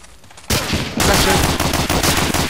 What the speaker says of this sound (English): Browning automatic rifle.